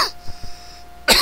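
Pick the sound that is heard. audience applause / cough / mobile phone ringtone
cough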